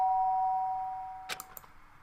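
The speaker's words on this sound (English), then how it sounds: "sound of the doorbell forced its way into my room" Doorbell chime in the video game Danganronpa: Trigger Happy Havoc, a short cluster of bright electronic ding tones that rings out clearly after a sustained steady tone fades, with no voices.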